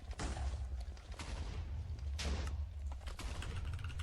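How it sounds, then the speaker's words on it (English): A Minecraft machine explodes over and over in rapid muffled booms that overlap into a constant loud rumble, with sharper bursts standing out. "Because I don't like this thing exploding constantly."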